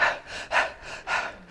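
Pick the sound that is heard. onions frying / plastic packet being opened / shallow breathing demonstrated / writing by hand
shallow breathing demonstrated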